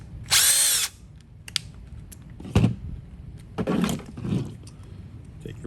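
A power tool whines briefly to back out screws on a Traxxas nitro RC rally car engine, followed by clicks, clinks and rattling of small parts being handled.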